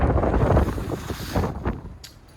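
Strong wind buffets the microphone in heavy, rumbling gusts on the deck of a Birchwood 370 Commando boat, easing off toward the end, with no voices present.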